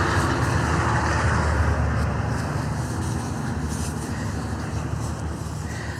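Steady freeway traffic roars from a ghost town roadside, a continuous broadband rumble of passing cars and trucks with no pauses, moderately loud and distant-sounding throughout.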